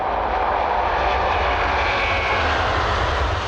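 An Airbus A380 airliner roars down the runway on takeoff, a loud, sustained broadband engine rumble that holds steady throughout with no voices.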